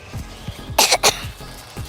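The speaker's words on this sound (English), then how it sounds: "sorry about the coughing." Someone sick with a cold coughs, a short cluster of two or three harsh coughs near the middle, loud and close, with faint background sounds around them while playing the Dress To Impress game.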